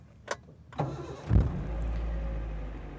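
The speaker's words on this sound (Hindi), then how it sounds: "ये देख लीजिए मैंने गाड़ी स्टार्ट कर दी है" A car engine cranks briefly and catches, then settles into a steady, close idle hum after a couple of clicks, with no talking.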